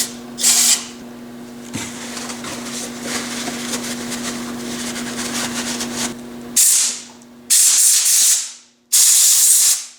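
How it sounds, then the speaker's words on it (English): Bursts of cleaning spray hiss onto a Honda GX160 small engine to knock off dirt: a short blast, a long sustained spray with a low hum beneath, then several sharp separate bursts near the end. "I am just going to quickly kind of spray off, knock off some of this crap."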